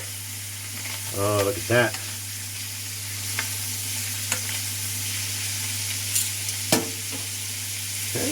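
Lamb sizzles steadily in a pan with a loud continuous fry, while a short spoken remark and a few clinks and scrapes mark the pieces being flipped.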